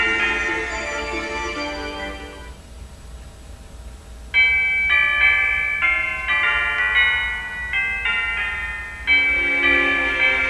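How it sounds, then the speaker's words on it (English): Wish bell in the video game Pokepark 2, rung in a series of bright, resonant metallic strikes that overlap and ring out, following a sustained chime, with no voices. "Pikachu, ring the wish bell for all you're worth."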